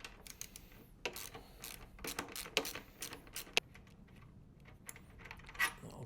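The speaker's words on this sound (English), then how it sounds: "I'm going to take this bolt out from the back of the tank" A 10mm socket and spanner undoing a bolt at the back of a Royal Enfield Himalayan 450 motorcycle fuel tank: quiet, close metallic clicks and taps in an irregular scatter, with no one speaking.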